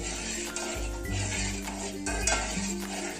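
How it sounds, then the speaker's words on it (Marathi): A spoon scrapes and knocks against a pot while rice-flour kheer with cashews and almonds is stirred, with a few soft clinks and scrapes over a steady low hum. "सतत हलवत पाहिजे आपण खीर"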